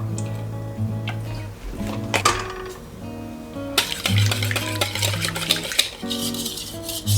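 Mac and cheese mixture with cheese and a dash of cream being stirred in a bowl for a Southern baked recipe, with close scraping and clinking of a utensil against the bowl in short, uneven bursts.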